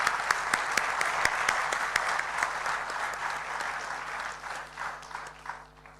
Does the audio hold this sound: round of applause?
yes